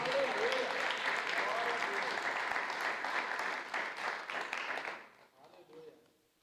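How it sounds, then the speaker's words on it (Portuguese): A church congregation applauds at an evening service, giving dense, sustained clapping mixed with crowd voices for about five seconds before it fades quickly into a quiet hall. "receba e aplauda ao nome do Senhor"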